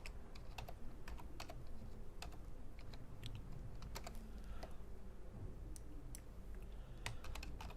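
Typing on a computer keyboard while entering network settings, a rapid irregular run of close, faint key clicks over a low background hum, with no talk.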